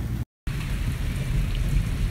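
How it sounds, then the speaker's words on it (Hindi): Heavy village rain pours down in a dense, steady hiss, broken by a very brief dropout near the start. "ये देखें बहुत तेज़ बारिश है"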